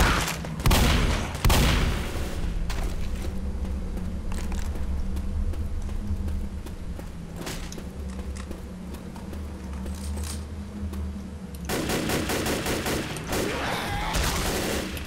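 Gunfire from the Left 4 Dead video game: rapid bursts of shots and booms, heaviest at the start, then scattered firing over a rumbling background.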